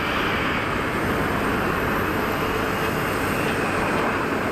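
An easyJet A320neo jet arriving from Nice lands at Geneva Airport, giving a continuous broad engine roar at close range, loud and unbroken with no voices.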